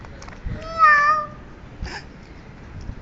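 A house cat gives one clear, drawn-out meow near the start, then a shorter, softer second meow, both close by in an otherwise quiet indoor room.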